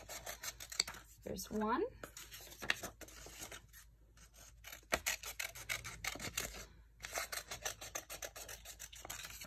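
Scissors snip through construction paper while cutting small half-circle pupils for a paper-plate frog craft, giving repeated short crisp cuts and rustling, with someone talking briefly over them.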